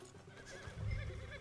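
A horse whinnies briefly in Red Dead Redemption 2, with soft background ambience and a low rumble underneath.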